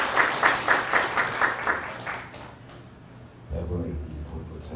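An audience claps at a Korean literary talk event, with rhythmic bursts of applause that fade out, followed by a voice speaking.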